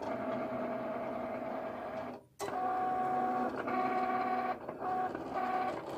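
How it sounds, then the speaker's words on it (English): A Cricut cutting machine cuts a logo for a laptop bag, giving a steady mechanical whir with tonal motor lines, a brief pause near the middle, then resuming with stepped carriage movements, close and alone. "And the machine's gonna start cutting."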